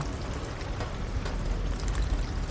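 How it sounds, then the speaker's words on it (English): Rain effects in a video game, a steady hiss of falling rain with scattered drop patter at moderate level, heard alone with no voices. "It's amazing, the effects in the rain"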